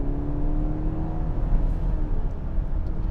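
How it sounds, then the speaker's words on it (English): A 2020 BMW X3 sDrive30i engine pulls at half throttle, a steady smooth hum with a rising tonal drone heard from inside the cabin, no talking over it. "I'm sure it's got some form of fake engine noise being put into this."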